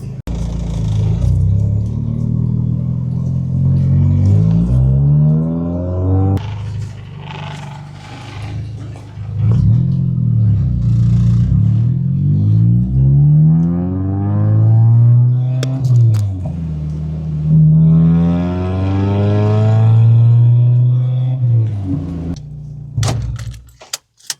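A car engine drones steadily and rises and falls in pitch as the vehicle accelerates and shifts gears on a drive home, loud and close, with no talking.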